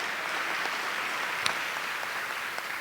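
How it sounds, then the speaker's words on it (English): Audience clapping for an award recipient at a university awards ceremony, a steady, even patter of many hands heard from a distance, continuing throughout without voices. "Now you should clap, right?"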